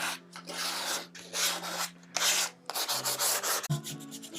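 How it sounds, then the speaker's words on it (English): Sandpaper rubs back and forth by hand over guitar lacquer in repeated strokes, a close, gritty rasp with short pauses between passes. "We sanding all the little bits."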